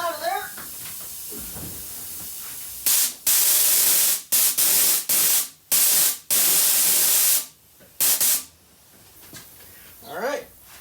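A nitrous system is purged after a leak, with loud bursts of hissing spray, several short blasts and a longer one, separated by quieter gaps, with voices talking before and after.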